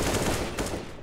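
Rapid bursts of gunfire in Counter-Strike: Global Offensive, dense and continuous with repeated sharp cracks over about a second, no talking.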